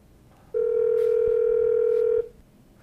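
A steady dial tone from a Polycom IP450 desk phone on a hosted VoIP line, a loud, clean, continuous tone lasting under two seconds with no talking over it.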